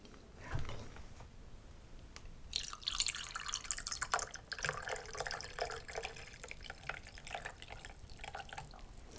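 A container is filled halfway with water for an amateur ramen breakfast. Quiet dripping and trickling starts up and becomes a steady close stream, with a few clinks of the vessel, and no one talks.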